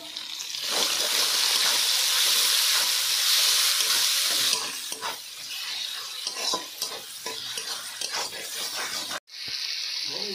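Chopped tomatoes frying with ginger paste and salt in a pan for a snakehead fish curry, sizzling loudly and close, then settling into a softer hiss broken by stirring scrapes. No one talks.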